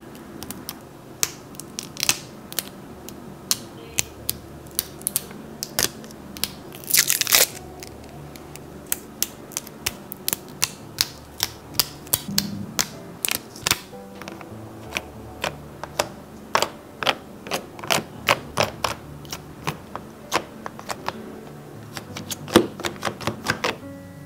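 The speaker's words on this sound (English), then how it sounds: "let's do some peeling ASMR." Plastic packaging peeled and crinkled from a set of HIMI gouache paint tubes, giving a close run of sharp crackles and ticks spread unevenly across the stretch, with one longer tearing burst partway through and no talking.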